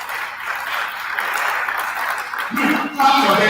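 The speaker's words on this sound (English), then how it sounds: "let's clap for this young man" Audience applause at a livestock farming seminar, a steady wash of clapping for a young farm manager that swells louder toward the end, with a voice speaking over it.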